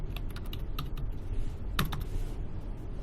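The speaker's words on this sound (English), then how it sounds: "I am typing" Rapid keystrokes on a computer keyboard during a chemistry lab session, a steady run of close, crisp clicks with a brief louder cluster near the middle.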